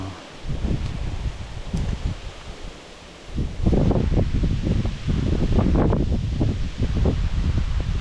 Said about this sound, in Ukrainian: Вітер роздувається, капець ураганний.